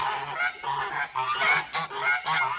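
A young Kholmogory gander honks repeatedly in short nasal bursts, fairly close, with brief pauses between calls.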